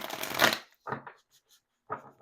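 Slightly sticky tarot cards riffled in a loud burst, followed by two shorter, softer shuffling bursts separated by brief silences.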